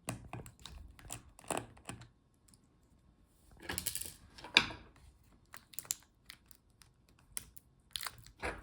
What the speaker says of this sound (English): Now unscrew the screws holding the battery.